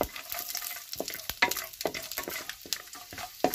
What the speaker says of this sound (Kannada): ನೋಡಿ ಸಾಸಿವೆ ಸಿಡಿತಾ ಇದೆ.